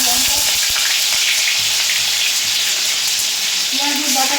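Chilli fries in mustard oil in a kadai, a loud, dense and continuous sizzle with crackling spits throughout.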